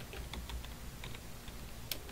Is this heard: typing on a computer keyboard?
yes